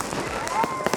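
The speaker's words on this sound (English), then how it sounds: "here in Germany during the New Year's, they really like to go ham with fireworks" New Year's fireworks in a German neighborhood crackle and pop in quick scattered bursts, a thin whistle rising through them, heard at moderate distance against a steady background roar.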